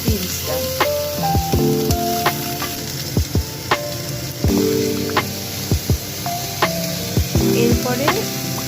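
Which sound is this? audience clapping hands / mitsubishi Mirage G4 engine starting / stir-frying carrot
stir-frying carrot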